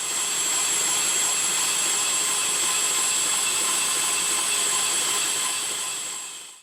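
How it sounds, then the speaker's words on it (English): A belt grinder with good tracking wheels runs steadily and smoothly in a workshop, producing a constant, fairly loud high-pitched whine and hiss that holds even throughout and fades out at the very end. "The grinder runs so smoothly."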